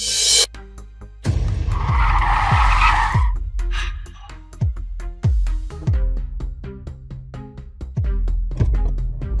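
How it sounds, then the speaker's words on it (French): A car skids with squealing tires in a dramatized race-champion story, a loud screech followed by a series of sharp impacts and knocks. "C'est pas la voiture de Lucien?"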